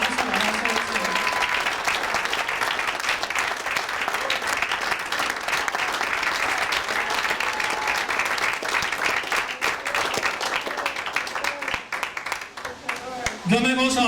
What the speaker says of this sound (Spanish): nos den un aplauso para Cristo.